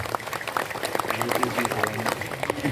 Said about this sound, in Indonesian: tepuk tangan dulu Bung buat Pak Saim satu lagi.